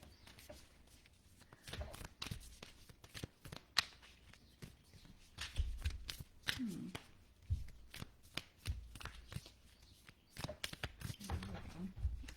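A stiff deck of tarot-style cards is shuffled and handled up close, giving soft riffles, taps and slaps at an irregular pace, fairly quiet, with occasional faint talk in the background.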